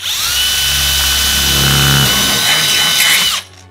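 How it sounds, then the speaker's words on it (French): Very loud, close whine of a power drill with a steel bit boring through a metal stud and plasterboard in a partition wall, running steadily for about three seconds, shifting pitch as the bit bites, then stopping abruptly. "le fait de percer directement le montant et la plaque de plâtre"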